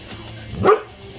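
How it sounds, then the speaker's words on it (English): One loud, close dog bark cuts through a quiet indoor room, standing alone for a brief moment. "you don't have to bark at every little thing!"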